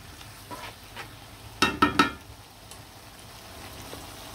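Flat beans, potatoes and tomatoes being stir-fried together, a low continuous sizzle with a few sharp scraping clatters of the spatula against the pan near the middle.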